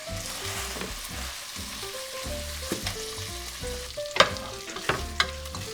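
Onions frying in a pan for a stew over low heat, with steady sizzling and stirring scrapes, a few sharper clinks of a utensil against the pan, and background music underneath.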